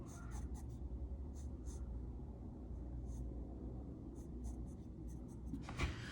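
A pencil sketches a bell pepper on paper, making a continuous soft scratching with short stroke bursts, close but quiet under a steady low rumble.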